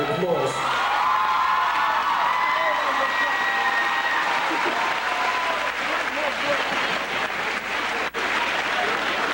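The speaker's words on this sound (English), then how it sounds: "give him a round of applause" A large convocation crowd at Wilberforce University applauds its new president, Reverend Dr. Floyd H. Flake, with steady, dense clapping mixed with cheers and whoops that carries loudly through the whole stretch, briefly dipping near the end.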